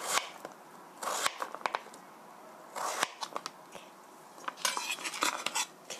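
Knife slicing cucumber and daikon thinly, about 0.3 cm, for pickles, giving bursts of crisp cutting strokes against a board in quick clusters with short pauses between.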